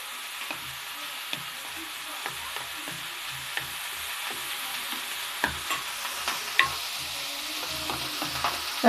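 Potatoes and green jackfruit frying in oil in a pan, a steady close sizzle broken by repeated spatula scrapes and clinks against the metal, with no voices.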